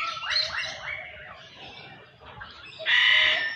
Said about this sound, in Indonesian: Nah, ini ada burung kakatua juga ya.